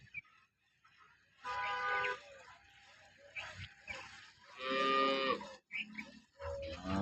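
A dairy cow that gives about five to twelve litres of milk, just brought in and a little restless, moos loudly several times in long, drawn-out calls, with quieter rustling between them.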